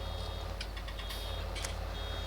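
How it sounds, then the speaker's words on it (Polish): Reversing beeps from farm machinery working a rapeseed field during mowing and baling: a few faint, evenly spaced electronic beeps sit over a loud, steady low engine drone. "Teraz będzie znowu pikać."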